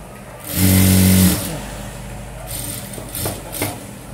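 Sewing machine stitching along a neatly folded cloth shape, a loud steady mechanical whir lasting under a second, followed by quieter handling noises and a few faint bursts.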